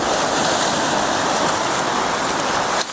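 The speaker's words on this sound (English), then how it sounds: "Wait for a wave to come along." Surf breaks over coastal rocks in Okinawa: a steady, loud wash of churning white water that fills the whole stretch, then drops away sharply near the end.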